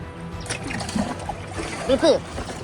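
Water splashes and sloshes as it is thrown from a tank onto a house fire in Kaying, with irregular splatters under nearby people talking.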